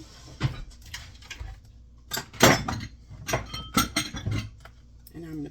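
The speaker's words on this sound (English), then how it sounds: "I'm just going to take my ice cream scoop, take a scoop, put it in" An ice cream scoop dishing low-carb cookie dough into jars, with several clinks and scrapes of metal on glass in uneven bursts, close by, a voice speaking between them.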